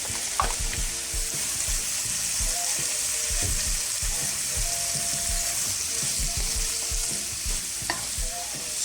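Brussels sprouts frying in a pan for hotdog fried rice, a steady loud sizzle throughout with repeated low scraping and knocking of a utensil stirring them, close up and with no talk.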